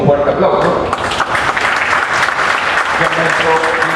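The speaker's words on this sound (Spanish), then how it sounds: "por favor recibimos con un fuerte aplauso" A crowd applauds loudly and steadily, many hands clapping in a dense patter with some cheering voices mixed in.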